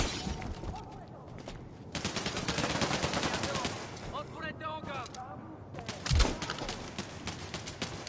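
Gunfire in the PSVR shooter game Bravo Team, with bursts of rapid shots and sharp single reports amid game ambience, fairly close and mixed with other in-game noise.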